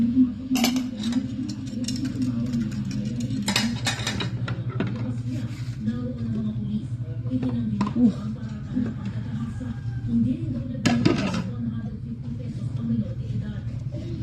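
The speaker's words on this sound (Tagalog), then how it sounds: "Masarap maghugas ng pinggan lalo sa umaga." Plates and spoons clink and knock together during morning dishwashing, with sharp scattered clatters over a low running hum and a voice talking faintly in the background.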